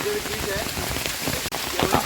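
Heavy rain pours steadily while hikers descend from Mahimatgad fort in Ratnagiri, a dense continuous hiss with brief drop spatters and faint voices in the background.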